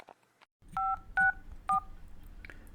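Telephone keypad dialing tones during a call to a county office: three short, clean two-tone beeps in quick succession, loud and isolated, followed by faint background hiss.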